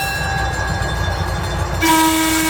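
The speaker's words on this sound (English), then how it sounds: "please remain seated until you hear the train whistle" A diesel train at Greenfield Village idles with a steady mechanical hum, then a loud, sustained whistle blasts in near the end, close and piercing.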